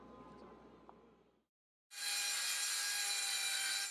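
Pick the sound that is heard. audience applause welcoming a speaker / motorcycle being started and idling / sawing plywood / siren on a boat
sawing plywood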